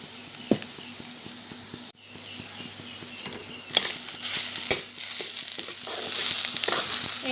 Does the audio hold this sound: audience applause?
no